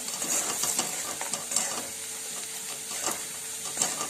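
Egg bhurji masala is stirred in a pan, giving soft scraping strokes and intermittent clicks of the spoon over a faint background sizzle, with no one speaking.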